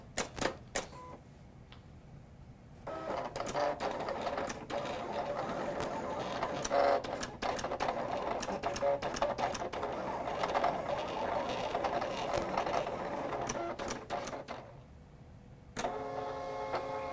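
A craft cutting machine slices paper flowers on a cutting mat, giving off a steady run of rapid mechanical ticks and whirring motor movements, with brief quieter pauses near the start and end.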